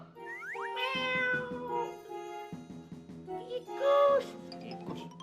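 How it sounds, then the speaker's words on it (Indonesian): A cat meows several times in drawn-out, rising and falling cries, fairly close, with a faint jingle and some background noise. "Tapi kok meong-meong nih?"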